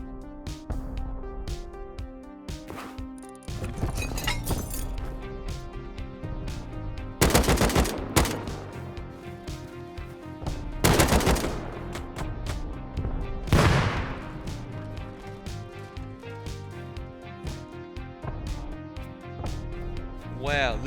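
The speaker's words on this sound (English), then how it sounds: "Hear those rockets?" Rockets and heavy gunfire from a distant raid in Rust, heard in a snowy game setting: continuous rattling bursts with several sharp, loud blasts spaced a few seconds apart, under game ambience.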